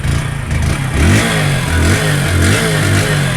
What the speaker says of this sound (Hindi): तो देखिए हमारी जो है बाइक तुरंत स्टार्ट हो गई।